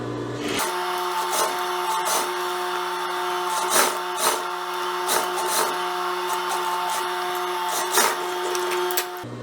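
A sewing machine runs at steady speed while topstitching over a jumpsuit pocket, a continuous mechanical whir with a bright hum and repeated small ticking peaks, close and alone.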